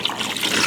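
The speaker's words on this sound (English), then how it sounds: "I'm going to add my water to cover my fish" Water poured into a pot of fish heads over a lit flame for fish stock, a steady close trickle and splash running alone through the short moment.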